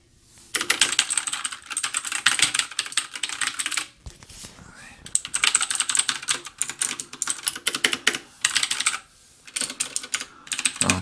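Fast, clattering keystrokes on an AUKEY 87-key mechanical keyboard, close and loud in several bursts separated by short pauses.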